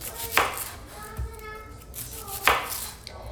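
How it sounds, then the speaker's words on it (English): Onions being chopped with a knife on a board in a home kitchen, a few sharp, close knife thuds at uneven intervals with faint handling noise between. "you can't see what I'm doing, I'm chopping"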